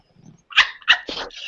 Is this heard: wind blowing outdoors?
no